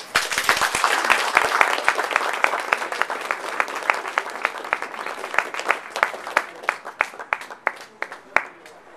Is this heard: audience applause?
yes